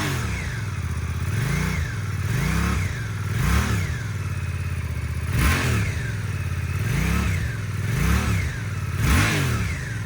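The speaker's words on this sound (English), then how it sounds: "That's the engine. I'll give it a couple revs." A 2024 Suzuki GSX-8S motorcycle engine is revved about eight times, each rev rising and falling in pitch over a steady idle, loud and close with no talking.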